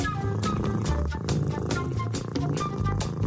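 A steady, close cat purr rumbles throughout, with faint clicks and no talking.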